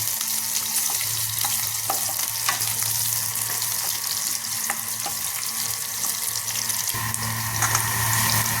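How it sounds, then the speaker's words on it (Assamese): Onions and two green chillies fry in oil over tempered spices in a pan, a loud, steady sizzling hiss that runs unbroken for the whole stretch, with no voices. "পিঁয়াজখিনি ৰঙচুৱা হোৱালৈকে ভাজি লওঁ মই"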